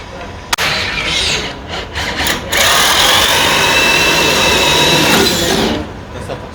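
Cordless drill boring through a knot in wood: a short whir, then a loud, sustained high-pitched grinding as the bit bites in, easing off near the end; a sharp click sounds early on.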